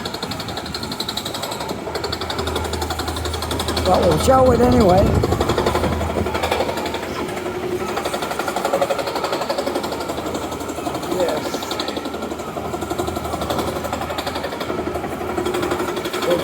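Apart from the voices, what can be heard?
gigantic jackhammer drilling through rock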